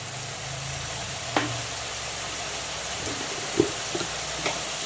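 Onion paste frying with slit green chilies and salt in a pan gives a steady soft sizzling hiss, broken by a few faint clicks and taps of stirring.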